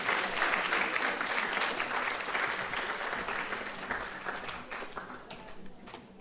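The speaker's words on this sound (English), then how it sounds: "a round of applause for our quick winners" An audience at a university welcome day applauds steadily for several seconds, a dense wash of clapping that slowly fades toward the end.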